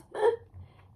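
A cartoon penguin gives a single quick hiccup, a sharp voiced gulp followed by a soft breathy tail, heard close and alone.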